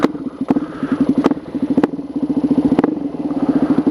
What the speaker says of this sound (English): This exhaust is loud, dude.